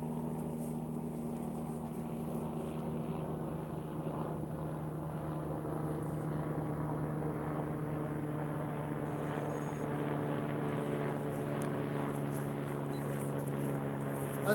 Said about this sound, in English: if you can hear that noise up there. Can you hear it? That's the police. That's a PSNI helicopter.